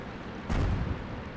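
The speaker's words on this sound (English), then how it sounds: "Oh, the artillery." An artillery shell hits in the World of Tanks video game: one dull, muffled boom midway through, with a low rumble trailing off beneath steady background noise.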